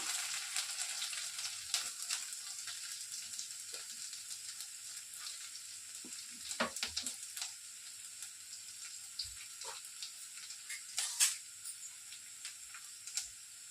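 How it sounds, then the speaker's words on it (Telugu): Small chopped pieces of garlic fry in hot oil for chilli paneer. A quiet, close, steady sizzle carries scattered crackles and ticks, with no talking. "ఈ వెల్లుల్లిని ఇందులో వేసేసుకుంటున్నాను."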